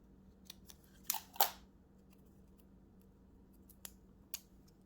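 Scissors snip tape along the edges of a handmade Valentine tag card, two close crisp cuts followed by a few lighter, sparse clicks in a quiet room.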